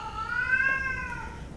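An upset cat lets out a single long, drawn-out meow close by, rising and then falling in pitch, with no one talking.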